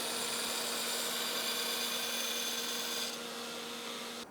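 Faint steady whir and rasp of a power grinder working a mosaic Damascus Bowie knife blade, one continuous pass with a steady hum, softening near the end before stopping.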